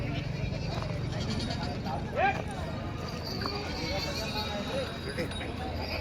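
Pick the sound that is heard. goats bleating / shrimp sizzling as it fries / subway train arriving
goats bleating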